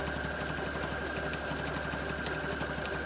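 A sewing machine runs steadily while stitching through a thick fleece baby blanket, giving a continuous close mechanical hum and rapid stitching drone with no pauses.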